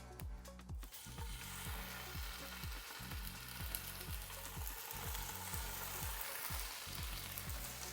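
Swordfish steaks sear in a hot pan, producing a faint, even hiss of sizzling oil that holds steady, over a low pulsing hum, with no one talking.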